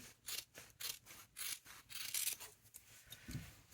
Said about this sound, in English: I'm going to trim the under collar seam allowance to